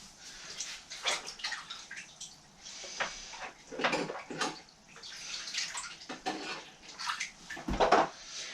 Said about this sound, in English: I'm gonna rinse it over again just in case.